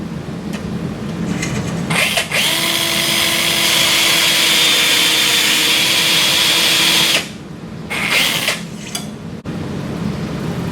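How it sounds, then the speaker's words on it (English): A power-driven medium/large carpal reamer runs over a guide pin into a sawbones wrist model, a loud steady whirring grind lasting about five seconds, bracketed by short bursts of the drive starting and stopping. "drive over the guide pin until the nose of the reamer bottoms out on the screw"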